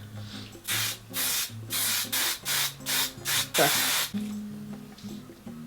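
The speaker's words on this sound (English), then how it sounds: "Grab your hairspray. Go like this." Hairspray sprayed onto long blown-out hair in a series of about eight short hissing bursts, close and loud, with soft background music underneath.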